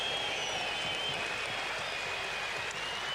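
Sustained applause from spectators at a South Africa versus Australia cricket match presentation, a continuous even hiss of many hands clapping at a distance throughout.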